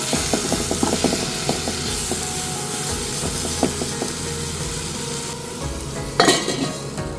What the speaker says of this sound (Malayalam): ഇതെല്ലാനും നല്ലോണം മിക്സ് ചെയ്യുക